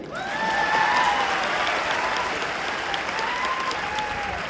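Sustained audience applause at a student career guidance event in Nanded: a broad, steady roar of many hands clapping together, swelling early and holding even, with faint whistle-like tones above it.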